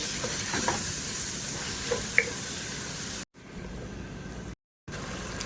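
Turmeric is stirred into tomatoes frying in a pan for fish curry: a steady close sizzle with soft spoon scrapes, briefly cut by two silent gaps.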